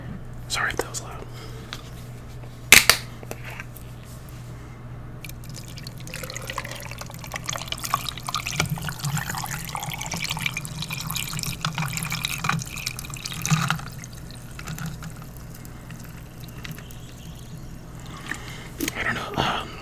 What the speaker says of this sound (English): I'm gonna go ahead and pour, blue Powerade